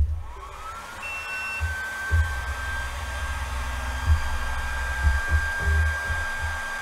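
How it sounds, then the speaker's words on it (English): An Atomstack A5 M50 Pro laser engraver cutting wood spins up into a loud, steady, airy whoosh like a blower, with a thin high whine and occasional dull knocks underneath. "Let's fire up the laser, even though it's going to be loud."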